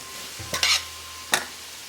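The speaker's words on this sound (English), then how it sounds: "And I'll go back to my chop suey. Stir that around." Chop suey is stirred around in a pan, with a faint low sizzle broken by two quick, bright scraping strokes of a utensil, close and otherwise quiet, no voices.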